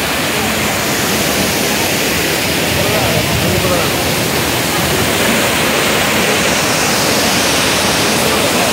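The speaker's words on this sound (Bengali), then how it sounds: "এই হচ্ছে কাঞ্চনজঙ্ঘা ওয়াটারফল।" Kanchenjunga Falls near Pelling pours down in a steady, dense roar of rushing water that fills the whole clip at full loudness without a break.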